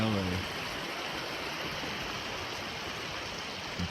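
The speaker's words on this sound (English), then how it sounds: "I'm just witnessing all this water come straight from the source that feeds all the valleys of California" A mountain stream of snowmelt from the Sierra high country rushes steadily, a dense close wash of flowing water that fills the whole clip without pause.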